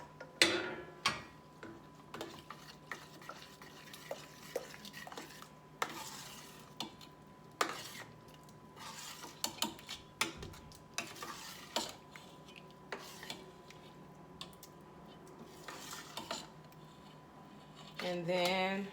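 Homemade ground turkey chili is stirred in a pot, a spoon scraping and tapping in soft, irregular strokes over a faint steady hum, fairly quiet and close, with no talking.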